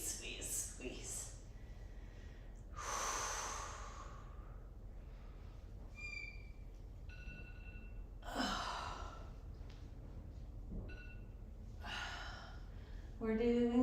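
Heavy, effortful breathing from someone doing an ab workout, a series of deep sighs, gasps and exhaled breaths spread across the stretch, fairly quiet and close, with no clear words.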